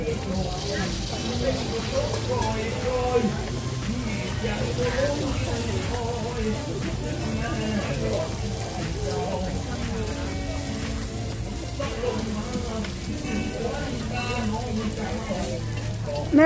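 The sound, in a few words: frying Thai lotus flower snacks (khanom dok bua)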